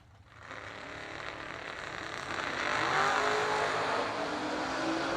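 An S10 pickup and a Corvette Roadster launch side by side at a drag race, engines swelling from a quiet start into a loud sustained roar that holds strong to the end.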